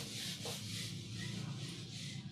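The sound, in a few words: rubbing out a drawn structure on a board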